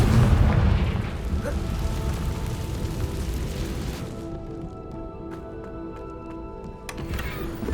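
A Confringo fire spell from the Hogwarts Legacy video game bursts with a loud, rumbling boom that fills the first few seconds, then fades into a lighter crackling tail with faint game tones.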